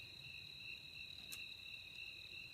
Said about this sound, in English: I don't know if you can hear all that buzzing